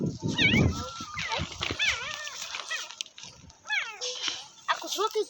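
Newborn puppies whimper and squeal in rapid, high, wavering cries, several overlapping close by, mixed with some low noise.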